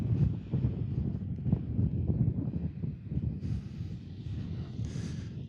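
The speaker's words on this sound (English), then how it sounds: "Yeah, it's pretty windy. Really windy." Strong outdoor wind at an airport buffets the microphone in a steady, loud low rumble, with brief gusty hiss toward the end and no voices.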